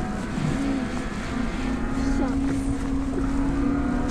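The electric assist motor of a family e-bike running during a ride over icy ground, a steady close whining hum under heavy wind buffeting and road rumble, with faint voices mixed in.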